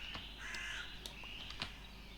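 Crow cawing in the Minecraft From The Fog mod, a few harsh caws with faint clicks in between, quiet and somewhat distant over a steady game ambience hiss.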